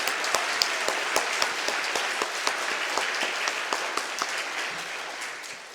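A church congregation applauds during a Sunday evening worship service, producing a dense, steady patter of many hands clapping together that thins and softens slightly at the very end.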